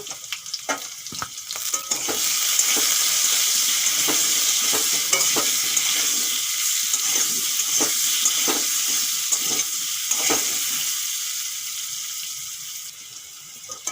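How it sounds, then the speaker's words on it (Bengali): Potatoes sizzle steadily in hot oil seasoned with salt and turmeric, with repeated scraping stir strokes against the pan running throughout, close and fairly loud, and no voices. "আর হলুদ দিয়ে আলুগুলো আমি ভেজে নেব"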